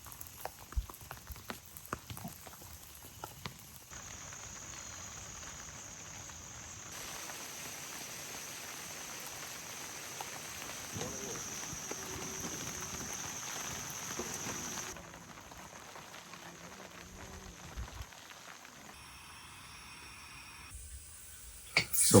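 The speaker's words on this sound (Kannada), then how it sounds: "ಮಳೆ ಬರ್ತಾನೆ ಇದೆ, ನಿಲ್ತಾನೆ ಇಲ್ಲ" Heavy night rain at a campsite near Ramanagara, a continuous soft wash of patter that is fairly faint and steady for the whole stretch, with a few brief knocks and shifts in level, no talking over it.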